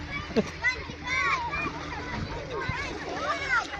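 A child jumps into a small village pond-like sea with a splash amid chatter, children's voices talking over the nearby watery splashing and lapping.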